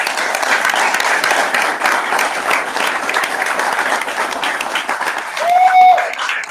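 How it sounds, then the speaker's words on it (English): A convention crowd applauds the crew of a podcast with a sustained, loud burst of many clapping hands. A brief whistle or whoop rises over it near the end. "Big round of applause."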